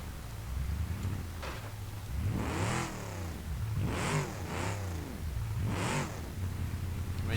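A street-tuned Gavril H-Series with its exhausts removed, in the BeamNG.drive video game, revs with nearly 400 horsepower, producing loud race-car-like engine bursts that rise and fall repeatedly over a rough idling rumble.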